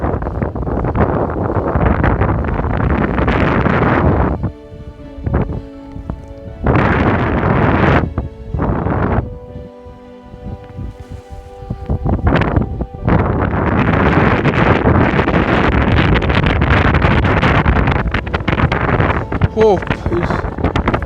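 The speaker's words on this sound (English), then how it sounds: "It's too windy." Strong, cold wind buffets the microphone in loud, roaring gusts, with brief calmer lulls in between, beside water in Fulufjället National Park, Sweden.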